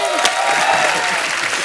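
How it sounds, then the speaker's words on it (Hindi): Brief burst of studio audience clapping on a Hindi TV comedy show, dense and bright, with a voice running underneath. "जोरदार तालियां"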